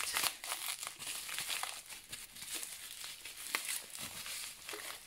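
Bubble wrap and plastic bag packaging around fragrance oil bottles crinkle and rustle continuously and close up, with dense crackling bursts throughout and no talking.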